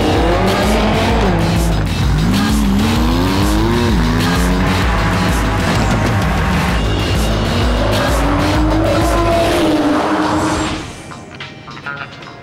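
A Porsche Carrera GTS sports car drives hard, its loud engine note rising and falling through gear changes while tires squeal sharply in long sweeping bursts, before the sound abruptly drops away near the end.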